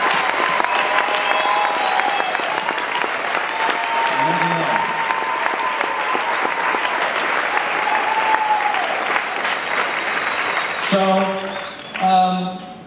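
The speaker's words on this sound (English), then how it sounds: "I'd like to give a big round of applause" An audience at a 2010 summit's closing speech breaks into loud, sustained applause that fills the hall for about eleven seconds, then fades as brief tonal sounds come in at the end.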